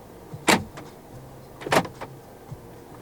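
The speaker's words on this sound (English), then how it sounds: "Central locking." Two sharp mechanical clunks of the central door locks actuating on a 2020 Toyota Rush 1.5 S, each followed by a softer click, close by and otherwise quiet.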